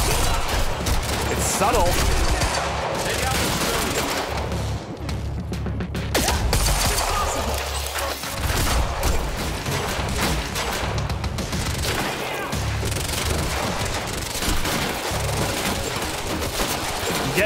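Sustained heavy gunfire and crashing impacts during a Quantum Break library chase, dense bursts and booms filling the whole stretch at close range, with a brief spoken line mixed underneath.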